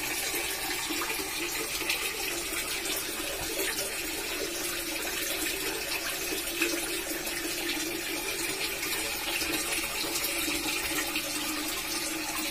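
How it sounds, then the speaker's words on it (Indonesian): A garden fountain splashes steadily into a tilapia fish pond among onion and chili plants, a constant close rush of falling water with no pauses and no talking. "Air mancur yang ada di tanaman bawang dan cabai."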